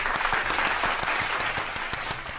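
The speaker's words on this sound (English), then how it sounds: "Give them a round of applause." A round of applause from an audience, steady dense clapping throughout with no voices over it.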